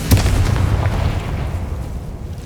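A loud, booming magical blast from the Confringo spell in the Hogwarts Legacy video game erupts at once, then a rumbling, crackling tail slowly dies away.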